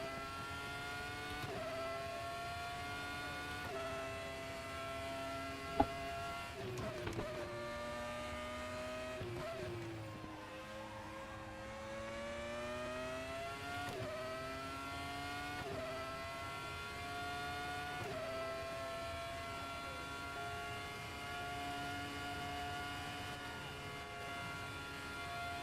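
Formula RaceRoom X-17 race car engine in a racing video game, a high-pitched, strongly harmonic whine held near full throttle, with pitch dipping and climbing through gear changes and a corner, steady and loud throughout.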